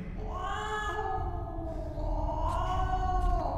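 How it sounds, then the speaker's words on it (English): A cat in the video game STASIS lets out a long, drawn-out meow followed by a second rising yowl, close and clear over a low ambient rumble. "Goddamn cat."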